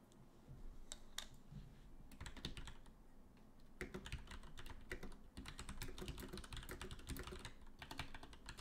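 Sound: computer keyboard typing

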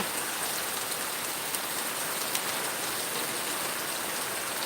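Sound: heavy rain with wind

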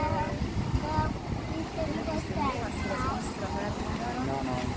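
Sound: jet ski (personal watercraft) engine on water

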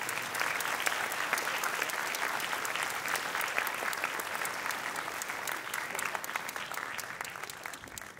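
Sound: applause

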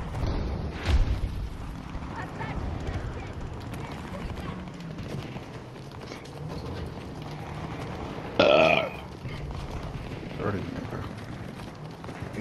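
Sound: burp

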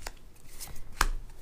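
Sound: shuffling tarot cards

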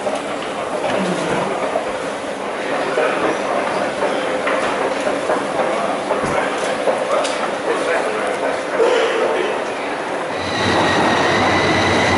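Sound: Heathrow Express train arriving

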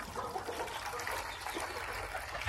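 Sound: water being poured in

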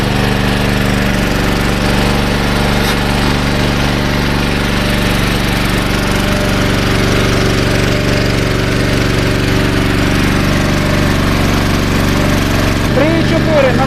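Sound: Champion CPG7500 gas-petrol generator engine running

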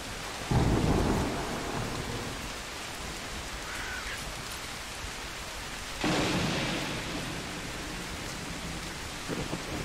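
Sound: thunderstorm with thunder and rain in a video game

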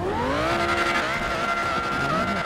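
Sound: McLaren 720S with aftermarket exhaust driving in GTA 5 video game

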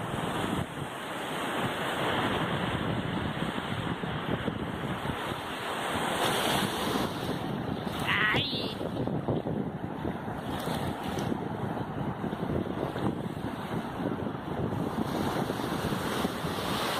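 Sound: sea waves and wind at the coast

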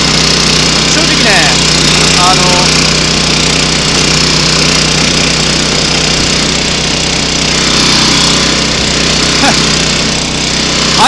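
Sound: grass-cutting mower running on a farm road

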